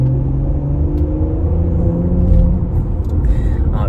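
2020 Porsche Panamera 4 accelerating under throttle, a deep steady engine drone rising slightly in pitch with road rumble, heard from inside the cabin, no talking.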